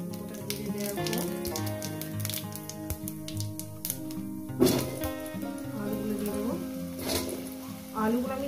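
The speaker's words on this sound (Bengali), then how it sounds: "আলুগুলো আমি 4-5 মিনিট ভেজে নিই" Potato pieces frying in oil with whole cumin seeds, a steady close sizzle under background music with occasional stirring clatter.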